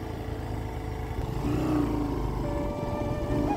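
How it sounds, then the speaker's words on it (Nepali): A motorbike ridden by a rider on a rough mountain trail toward Manang in Nepal, its mid-pitched engine droning steadily and close throughout, rising slightly in intensity partway through. "बाइक त हिँड्ने भइगयो, मैले चलाइरहेको छु अहिले"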